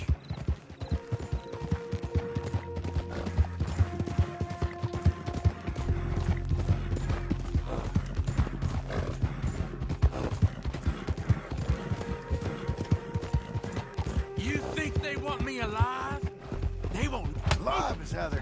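Horse hooves clip-clopping at a steady walking rhythm in the video game Red Dead Redemption 2, moderately close beneath a low droning score, while characters talk over it.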